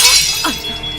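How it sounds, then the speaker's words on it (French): A quick crash of a breaking fruit bowl, glass or ceramic, a sharp shattering burst with a brief clatter afterward, close by. "casse la corbeille de fruits"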